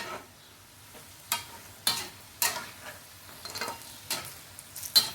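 Pork intestines frying in very hot oil, a soft continuous sizzle punctuated by sharp bursts of spatter and stirring clatter at irregular intervals, close by and without speech.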